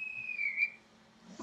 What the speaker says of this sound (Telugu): కాక ఆల్రెడీ విజిల్ వస్తుండు బంద్ చేయరని చెప్పి.